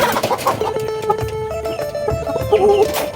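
BPR layer hens in a backyard coop cluck and cackle loudly and continuously, with overlapping calls from several birds close by.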